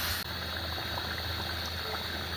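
A country chicken curry simmers in an old clay pot, a dense, continuous bubbling and hissing boil that stays close and even throughout, with no voices.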